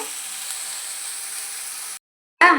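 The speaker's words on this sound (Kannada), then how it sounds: "1 ಇಡಿ ಕೊತ್ತಂಬರಿ ಪುದೀನನ ಆ್ಯಡ್ ಮಾಡಿಕೊಂಡು ಅದನ್ನು ಜಸ್ಟ್ ಒಂದು 5 ಸೆಕೆಂಡ್ ಫ್ರೈ ಮಾಡಿಕೊಂಡ್ರೆ ಸಾಕಾಗುತ್ತೆ" Coriander and mint leaves fry in a pan, giving a steady, soft, hissing sizzle that stops abruptly, followed by a brief silence and then a short, louder burst.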